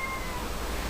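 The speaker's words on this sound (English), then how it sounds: "And I think you can hear some meowing going on." A cat indoors meows to be let outside, with a short, faint cry rising over a steady background hiss.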